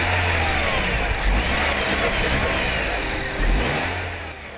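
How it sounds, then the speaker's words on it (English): A Citroën DS4 THP 200 accelerates, its engine a dense, steady roar that swells slightly toward the end, heard up close with no voices. "The engine has a promising pithy sound, and Citroën says its growl competes with that of the Golf GTI."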